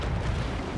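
Loud, dense booming cannon fire from a pirate ship in the game Assassin's Creed IV: Black Flag, a sustained rumbling blast filling the short moment with no talk over it.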